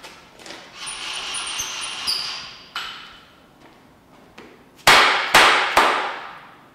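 A workpiece on a parallel in a Bridgeport milling machine vise is tapped down, giving a few sharp metallic clicks and taps, then three louder close knocks in quick succession after some faint ringing.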